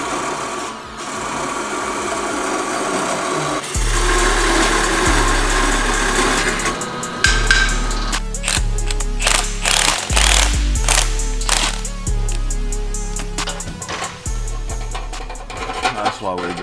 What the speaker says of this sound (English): I'll get the whiz wheel. We can ying that thing off.